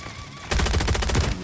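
Rapid video game gunfire bursts out after a quiet half second, a loud dense volley of shots lasting nearly a second before easing off.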